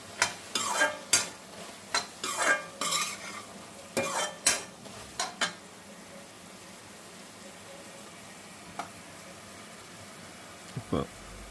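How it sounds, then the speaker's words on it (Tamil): Boiled wheat penne pasta being stirred and fried in a pan, with a run of close scraping, clattering strokes over the first half, then quieter sizzling with a few scattered knocks; no talking. "இப்போ அந்த பாயில் பண்ண வீட் பெண்ணை பாஸ்தாவை ஆட் பண்ணுறோம்"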